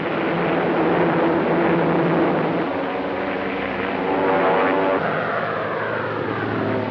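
WWII Typhoon and Spitfire fighter planes of the RCAF drone loudly and continuously, a thick, steady propeller-engine roar with a slight shift in pitch partway through, on an old wartime recording.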